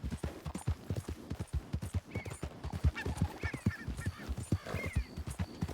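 In Red Dead Redemption 2, a horse's hooves clip-clop in a clear, close, regular rhythm, with occasional higher animal calls layered over the steps.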